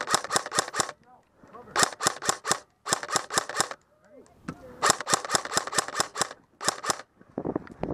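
Rapid bursts of gunfire crackle during a joint military exercise, repeated volleys of sharp close shots in quick rhythmic clusters with brief gaps, while people talk in between.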